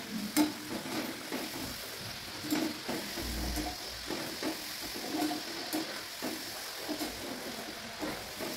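Shankarpali sweets deep-frying in hot oil, heard as a steady close sizzle and bubbling hiss with occasional light stirring clinks throughout, no voices.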